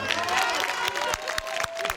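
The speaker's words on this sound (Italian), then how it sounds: "Un applauso." Applause from a concert audience at a Neapolitan song performance, crowd clapping mixed with cheering and a sustained tone, with a few sharper claps standing out near the end.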